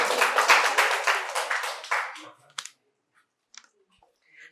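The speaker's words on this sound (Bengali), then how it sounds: "জোরে হাততালি হয়ে যাক স্যারের জন্য এবার।" An audience at a quiz competition at Santiniketan Medical College and Hospital claps loudly in a rhythmic burst of applause that fades out after about two seconds, leaving near silence with a few faint clicks.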